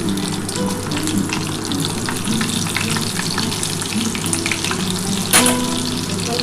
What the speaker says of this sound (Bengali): আমি একটুখানি কালো জিরে ফোড়ন দিয়ে দিলাম দিয়ে শুকনো লঙ্কাগুলো দিয়ে দিচ্ছি